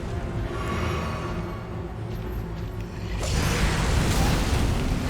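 A blast from the Mohg boss fight in the video game Elden Ring: steady rumbling game noise with mechanical creaks, then a louder broadband boom bursting in about two-thirds through and sustaining to the end.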